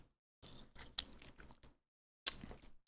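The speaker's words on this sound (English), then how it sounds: "Making slurping noises." Close, wet chewing and biting on food comes in a burst of crunchy, squishy bites, then a pause of silence and another sharp crunch.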